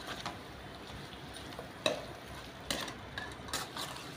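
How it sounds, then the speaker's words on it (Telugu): Chicken fries in a pan with thinly sliced green chillies, a faint steady sizzle broken by a few soft scrapes and knocks of stirring. "ఇప్పుడు సన్నగా కట్ చేసిన సీలికలుగా కట్ చేసిన పచ్చిమిర్చి కూడా ఇందులో వేసేసుకొని బాగా ఫ్రై చేసుకున్నాం"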